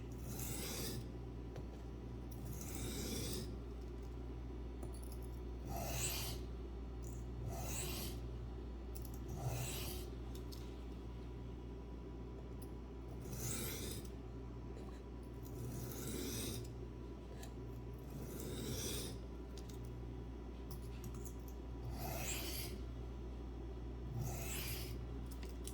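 A knife sharpened on a sharpening stone, steady rhythmic rasping strokes repeating every second or two, close and fairly quiet over a constant low hum.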